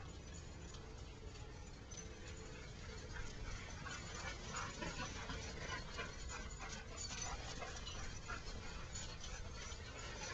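Dogs, including a pit bull, play noisily, panting and giving small whimpers and yips against a steady rough background.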